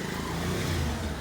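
A motorcycle engine runs steadily nearby at a low idle-to-moderate rev as the bike is turned around on a rural off-road track, with no talk.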